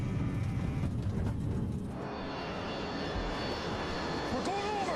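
Boeing 727 jet engines in flight aboard TWA 841, a steady broad roaring rush that stays constant and moderately loud across the whole stretch, with no voices over it.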